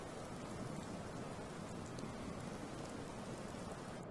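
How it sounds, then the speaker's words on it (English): Rain falls in the video game Skyrim: a steady, dense hiss of raindrops with no pauses and no one speaking over it. "I really don't want to start off in the rain."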